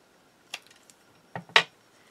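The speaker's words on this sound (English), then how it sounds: "Trying to be quiet with my scissors. I know it's very noisy." A few faint, crisp snips of scissors cutting paper, scattered in short bursts against near silence.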